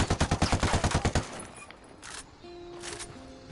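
Rapid automatic bursts of AK assault rifle fire in the Ghost Recon video game, a quick string of loud evenly spaced shots lasting about a second, then quieter in-game ambience and a faint tone.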